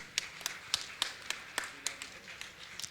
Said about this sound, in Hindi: मैं चाहूँगा जोरदार तालियां करके सम्मान करें